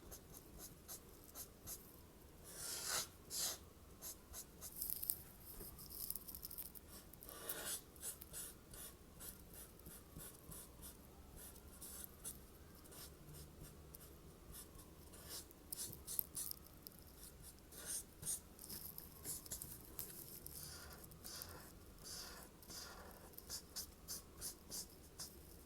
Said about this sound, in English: use my black colored pencil